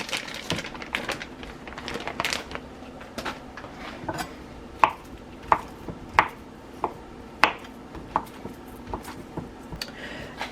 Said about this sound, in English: we have the crab meat all minced up to where I want it to be